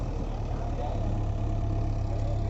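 A JCB 3DX backhoe loader's diesel engine runs at a steady idle in a farm field, a continuous low rumble with no changes in pace.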